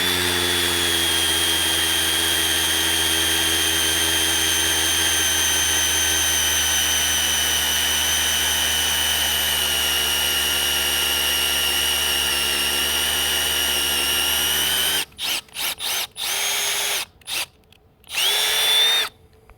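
A Milwaukee M12 Fuel Gen 2 hammer drill whines loudly in one long continuous run, then cuts into several short, sharp bursts with gaps of silence near the end.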